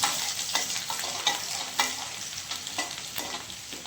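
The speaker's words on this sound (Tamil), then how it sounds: "அதை ஒரு 10 பல்லு பூண்டு அதை சேர்த்துடலாங்க. இதை கொஞ்சம் நல்லா ஃப்ரை பண்ணிக்கலாங்க." Garlic cloves and cardamom fry in a pan, a continuous close sizzle broken by frequent scraping stirs in an uneven rhythm, with no voices.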